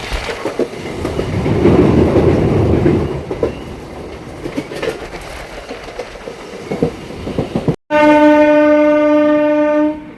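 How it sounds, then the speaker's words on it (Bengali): An ICF MEMU train rumbles and clatters past loudly in light rain, wheels clacking, then a long, loud harmonic horn blast sounds after a brief cut. "রিমঝিম বৃষ্টির মধ্যে আমাদের ট্রেন আইসিএফ মেমু দেখতে পাচ্ছেন"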